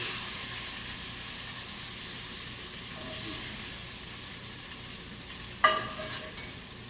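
Beef chunks fry in a hot pan with a steady close sizzle and hiss, and a sharp clatter near the end as a fresh batch goes in.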